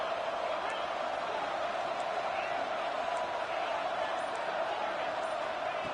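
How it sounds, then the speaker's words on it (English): Stadium crowd in the college football video game CFB26, a steady dense roar of fans in the early going of the Texas A&M vs Oregon game, with faint thuds underneath and commentary over it. "Listen to the crowd energy here in the early going."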